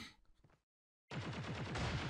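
Gunfire in the video game Call of Duty Mobile: a few faint shots, then a short silence, followed by a loud sustained burst of rapid automatic fire with an even, stuttering rhythm.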